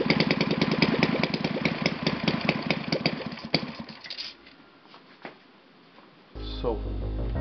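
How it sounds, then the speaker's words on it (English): An Enya VT 240 engine, with only its right cylinder fired, idles with a close, rapid, steady putter, then dies away to quiet before a sudden louder mechanical whir kicks in near the end. "It's idling perfectly."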